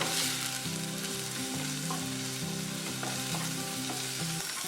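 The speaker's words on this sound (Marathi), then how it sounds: "टोमॅटो पण अगदी मऊ होईपर्यंत आपल्याला परतून घ्यायचं आहे" Tomatoes are sautéed in a pan for cashew curry, producing a steady close sizzle and frying crackle with occasional stirring scrapes throughout and no voices.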